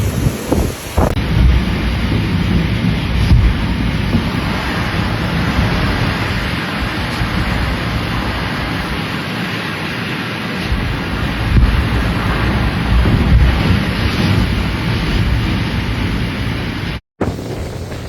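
Typhoon Danas winds and surf batter the Tainan coast, a loud, dense roar of gusting wind buffeting the microphone over crashing waves, sustained throughout with one abrupt brief dropout near the end.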